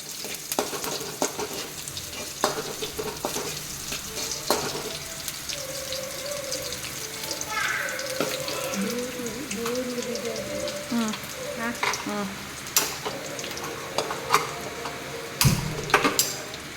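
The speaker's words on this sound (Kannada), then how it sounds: "ಸಾಸಿವೆ ಹಾಕಬೇಕು. ಸಾಸಿವೆ ಚಟಪಟ ಹೊಟ್ಟಬೇಕು." Mustard seeds splutter in hot oil in a home kitchen. Scattered sharp pops and crackles sound over a soft sizzle, and a voice talks intermittently through it.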